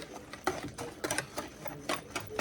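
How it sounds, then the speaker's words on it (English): A whisk clicks rapidly against a bowl while mixing chili honey buttermilk cornbread batter, producing a quiet, steady, rhythmic tapping for a couple of seconds with no talking. "maybe a tiny bit more whisking"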